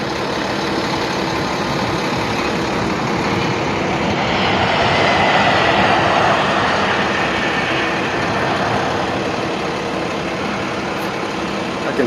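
A Boeing KC-135 jet tanker flying touch-and-go landings, heard as a broad, steady jet roar that swells to its loudest around the middle and then eases slightly, with no talking.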